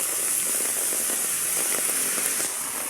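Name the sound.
heavy rain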